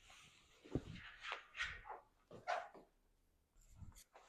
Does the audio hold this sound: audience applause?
no